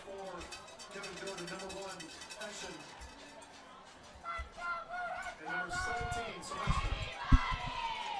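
A high school football crowd at a Carey versus Toledo Waite game cheering, with a cheerleader's chant drawing a swelling response, distant voices and shouts rising toward the end, partly under a commentator's voice.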